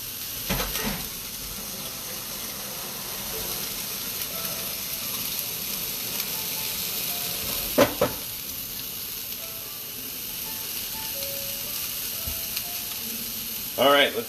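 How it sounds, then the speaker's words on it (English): Bacon sizzles and renders over medium heat in a pan already used for onions, a continuous close hiss broken by a few sharp utensil clinks. "Here comes the bacon, bring it on over. In that same onion pan, okay?"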